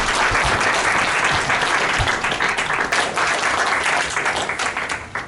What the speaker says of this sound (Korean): 선언문 낭독하신 두 분께 다시 한번 큰 박수를 드리겠습니다